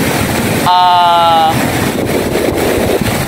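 Pacific Ocean surf rolls onto the long Tolosa, Leyte shoreline in a steady, loud roar mixed with heavy wind buffeting the microphone, and a short tonal whistle rises briefly over it.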